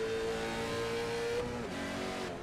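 A race car's engine screams at high revs during an onboard lap of the Autódromo Internacional do Algarve circuit, a loud steady whine that shifts pitch as the driver changes gear.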